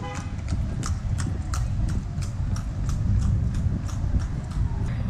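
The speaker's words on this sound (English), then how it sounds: "Check out this horse." On a street in Bali, a horse's hooves clip-clop in a steady, even rhythm, clear above a constant background of traffic and street rumble.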